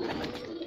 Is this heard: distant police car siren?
no